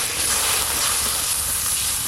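Water poured into hot masala and oil in a pan over a village clay stove gives a brief, broad steamy hiss that holds steady and fairly loud for a couple of seconds, with no voices.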